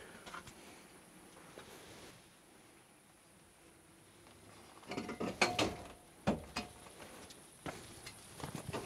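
An aluminium ladder is pulled out and extended in an orchard, giving a run of metallic clanks, rattles and ratcheting clicks from about five seconds on after a quiet, insect-filled stretch.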